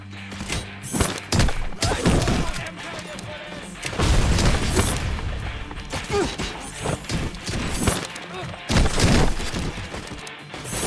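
Gunfire in the video game Robocop: Rogue City, with loud irregular bursts of shots, heavy impacts and crashing debris over several seconds. Voices are heard amid the shooting.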